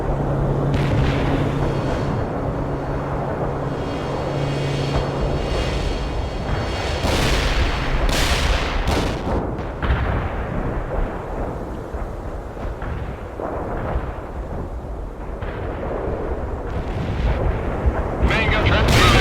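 Artillery barrages in the World in Conflict video game, heavy booming blasts and rumbling explosions rolling continuously and loudly, with radio-style voices talking over the battle.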